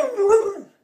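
A dog gives a single short, whiny bark-howl, close by, trailing off into silence, like a talking dog.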